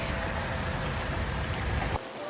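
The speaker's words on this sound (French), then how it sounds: "On essaye de s'abriter parce qu'il pleut" Rain falling outdoors on a gravel road in Patagonia, a dense, loud and steady hiss of drops that cuts off abruptly near the end.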